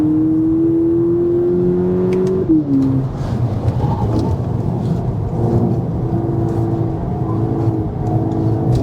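Volkswagen Polo GTI 25 Aniversario limited edition engine heard from inside while driving, a loud steady rising drone that dips at a gear change, then settles into a lower, rougher hum.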